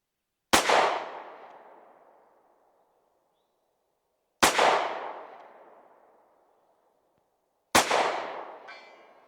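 Three sharp pistol shots from a GP Arms pistol fired at a target about 200 yards away, each a loud crack with a long echoing decay, spaced a few seconds apart outdoors.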